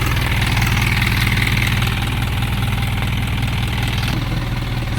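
The 4HG1 diesel engine of an Isuzu Elf truck idles close by, loud and steady with a low, even rumble and no voices over it.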